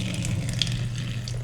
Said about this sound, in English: and we'll turn on the faucet.